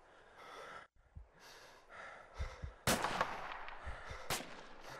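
Gunfire from a nearby hill during an outdoor exercise in a creek bed area: sharp single reports, with two strong cracks and a few softer pops, among breathing and movement noise close to the recorder.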